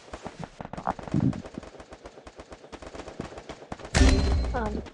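Rapid automatic gunfire from a shooting video game, including a headshot, rattling in dense bursts throughout, then a louder, heavier blast near the end, with excited talk over the shots.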